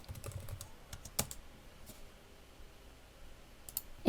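Typing on a computer keyboard, heard as scattered key clicks and short bursts of taps with irregular pauses, close and fairly quiet, with no voice over it.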